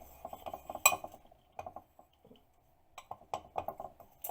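A spoon stirring a lavender mixture in a container, giving intermittent light clinks and scrapes in short irregular bursts with quiet gaps between.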